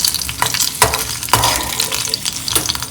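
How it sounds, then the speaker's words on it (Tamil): Cashews and raisins frying in ghee for coconut rice payasam, sizzling steadily while a spoon stirs through them, with several louder scraping strokes over the crackle, close and loud with no voices. "முந்திரி பருப்பும் திராட்சையும் நல்லா பொரிஞ்செடுத்து"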